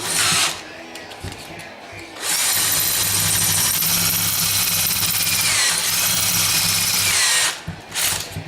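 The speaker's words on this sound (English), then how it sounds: "you can see the drill bit come through now" A power drill bores through a Powerglide transmission part with a loud, steady whine. Two sustained bursts are separated by a brief pause, and the motor spins down at the end.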